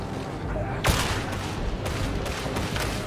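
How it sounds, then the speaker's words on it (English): Dense, continuous gunfire from Warhammer 40k: Darktide, played as a Veteran Sharpshooter shooting into a crowd of enemies, with a sharp, loud blast near the start and then a steady wash of overlapping shots and impacts. "Just firing into the mass."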